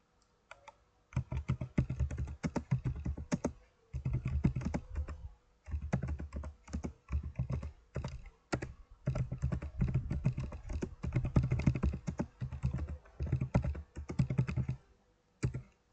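Typing into a chat window on a computer keyboard: rapid, close key clicks in bursts, with short pauses between runs of keystrokes and no talking.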